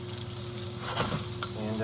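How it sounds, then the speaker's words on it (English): Ginger sizzles in sesame oil in a pot for Taiwanese sesame oil chicken, a steady close crackle with a low hum beneath and a brief spoken word. "I just want to get it sizzling"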